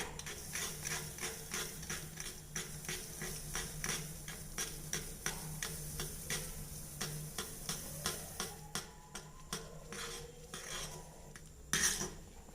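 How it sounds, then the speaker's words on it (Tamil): A steady run of metallic scraping clicks comes from a spoon stirring semolina for pineapple kesari in a pan on a gas stove, regular and close, with a louder clatter near the end. "ரவையை கொஞ்சம் கொஞ்சமாக தூவிட்டு கிளறிக்கோங்க"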